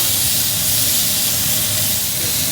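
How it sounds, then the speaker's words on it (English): A loud, steady sizzle hisses continuously from up close as a steak sears in a hot pan, with no pauses. "We got the sizzle we're looking for."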